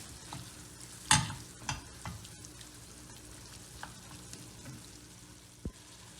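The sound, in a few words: stirring tomato paste frying in a pan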